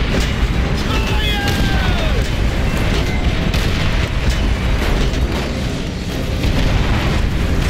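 Tank cannon fire in the World at War video game, a dense barrage of heavy booms and blasts layered over constant loud battle rumble, with whistling shell sounds early on and no pause throughout.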